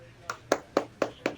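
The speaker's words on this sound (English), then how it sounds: "Baseball clap for Ken Griffey." Five sharp claps in a steady rhythm, close and fairly soft, alone with no talk over them.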